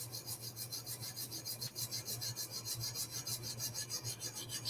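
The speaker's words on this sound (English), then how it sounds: "So far, I like the way it's sharpening." A knife blade drawn repeatedly across a sharpening stone or rod, giving a steady, rhythmic rasping scrape in close strokes throughout, with no talk.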